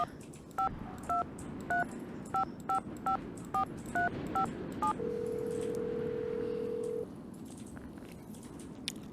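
Ten short two-tone DTMF keypad beeps dial a phone number in the Nancy Drew game Treasure in the Royal Tower, evenly spaced and clear, followed by a steady ringing tone for about two seconds before it cuts off.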